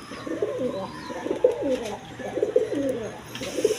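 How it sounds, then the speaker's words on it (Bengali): Domestic breeding pigeons coo in soft repeated rolling phrases, three or four close bursts over a faint background hiss. "এগুলো আরও বাচ্চা কাচ্চা করছে, ভালো জাতের কবুতর"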